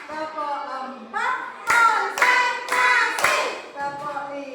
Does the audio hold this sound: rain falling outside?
no